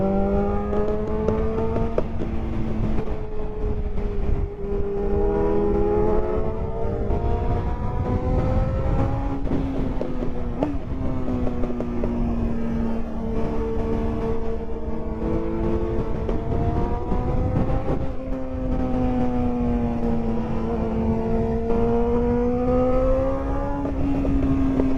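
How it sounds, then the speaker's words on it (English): Engines on the 600cc and 1000cc superbikes riding just ahead drone loudly, their pitch rising and falling through gear changes over a constant layer of wind rush, with no talking. "The sounds that are coming from these bikes in front of me are absolutely insane."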